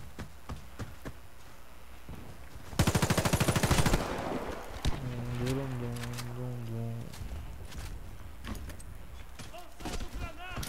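Rapid automatic gunfire bursts from a first-person shooter video game, one loud dense burst near the start followed by scattered shots under excited voices.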